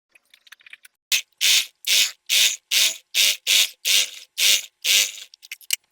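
A sewing machine runs a finishing stitch down the middle of stretched elastic for palazzo trousers. It comes as about ten short, even, buzzing bursts in steady rhythm, close and clear, with small clicks before and after.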